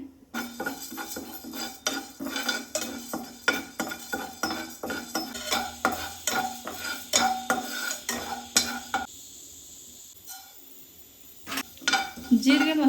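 Urad dal dry roasting in a pan for puliyogare powder, with rhythmic scraping and clinking of a spoon stirring against the metal and a light sizzle, a brief pause, then stirring resumes.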